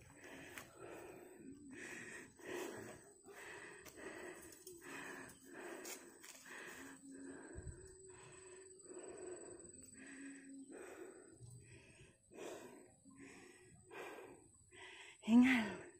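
Heavy, voiced panting from a hiker on a trail climbing toward a summit viewpoint, a steady run of close, rhythmic breaths with a faint tonal hum behind.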